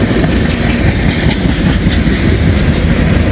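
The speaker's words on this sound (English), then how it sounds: "The CSX train. It's a bulk train." A CSX bulk freight train hauled by Canadian locomotives rolls past with a loud, continuous, broadband rumble and roar, close and steady throughout.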